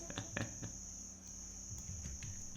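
A faint, steady high cricket trill runs throughout, with a few soft taps and knocks nearby.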